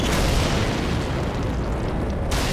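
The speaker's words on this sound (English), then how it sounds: "Wow, those are pretty weak torpedoes." Starship torpedo hits exploding in a Star Trek co-op video game, a continuous loud booming blast that fills the space and cuts off sharply near the end.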